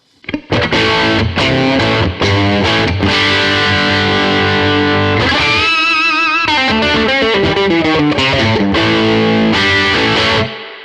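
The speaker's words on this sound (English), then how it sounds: "So I could put on my heavy overdrive if I wanted to." A heavily overdriven electric guitar played through AmpliTube 5 amp-modeling software, loud and continuous, with chugging palm-muted chords giving way to sustained, ringing bends and lead notes, no talking.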